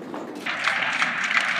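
Applause rises in the EU Parliament chamber as Trudeau walks in, a moderate, steady patter of clapping from a seated assembly heard at some distance.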